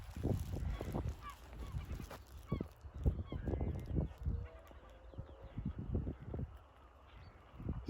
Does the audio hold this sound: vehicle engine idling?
no